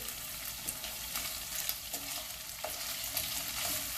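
Tofu seasoned with white pepper and sesame oil cooking in a pan, steady soft sizzling and frying with light stirring scrapes, fairly quiet and close, with no voices.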